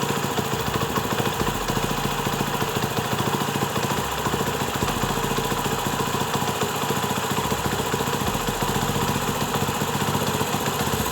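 A Honda CD 70 motorcycle engine idles steadily throughout while its carburetor is being adjusted, a continuous close puttering hum with no talk.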